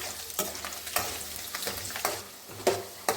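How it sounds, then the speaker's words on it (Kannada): Garlic and fresh ginger fry in a pan, a quieter sizzle broken by repeated spoon-stirring scrapes and knocks every half second or so. "ಬೆಳ್ಳುಳ್ಳಿ ಹಾಗೂ ಹಸಿ ಶುಂಠಿಯನ್ನು ಹಾಕಿಕೊಂಡು ಚೆನ್ನಾಗಿ ಫ್ರೈ ಮಾಡಿಕೊಳ್ಳಿ"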